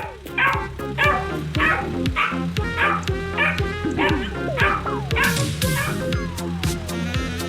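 A dog in the video game Drive Beyond Horizons barks and yips in a steady run of close, loud calls, then trails off into drawn-out whimpers and whines near the end, over faint game background sound.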